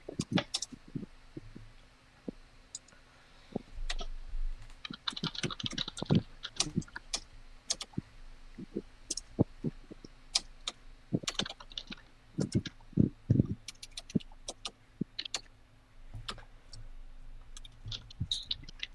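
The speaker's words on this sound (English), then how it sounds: "I got a quieter keyboard." Typing on a quieter computer keyboard, bursts of soft clicky keystrokes in irregular rhythm with brief pauses, close and moderately quiet over a faint background hum, no talking.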